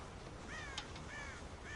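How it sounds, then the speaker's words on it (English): Crows caw in Red Dead Redemption, a few harsh rasping calls repeating at intervals over a steady wash of background noise, moderately distant. "God damn crows!"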